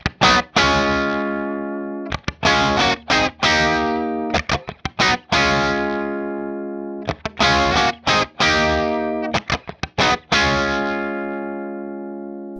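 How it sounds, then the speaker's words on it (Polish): An electric guitar played through a cranked power amp gives a heavily distorted brown sound, loud and close, with chords struck in short bursts that ring out and sizzle on top between pauses. "To jest właśnie zniekształcenie wywołane rozkręconą końcówką mocy."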